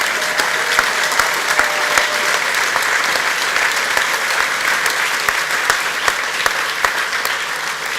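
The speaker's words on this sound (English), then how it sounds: "Gurudev Sri Sri Ravi Shankar, big round of applause." Sustained applause from a conference audience greeting keynote speakers on the dais at an ethics and sports leadership summit, a steady dense wash of many hands clapping throughout with no speech.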